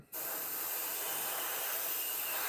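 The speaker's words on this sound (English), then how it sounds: "And we're just going to spray this down." A single steady hiss of an aerosol spray paint can coating a 1/32 scale Trumpeter TBD Devastator model engine, starting abruptly and continuing without a break, close and fairly loud.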